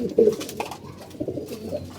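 Pigeons in a loft coo close by, a few low, throaty rolling calls over a couple of seconds.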